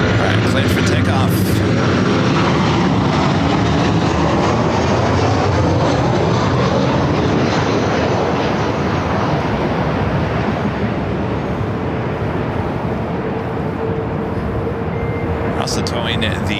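Jet airplane taking off at Los Angeles LAX airport, a loud sustained engine roar with a sweeping rise and fall in pitch as it passes, filling the whole stretch, and a voice talking over it.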